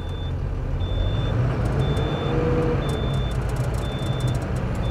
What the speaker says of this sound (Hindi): डंपर उठ रहा है।